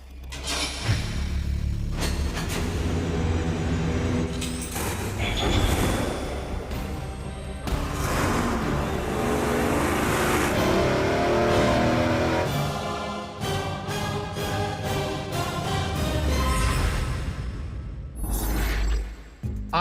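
A supercharged big block Chevy with nitrous on E85, making 1,500 horsepower, revs hard on an engine dyno. Loud, sustained roaring bursts are broken by sharp cuts, with booming pops throughout.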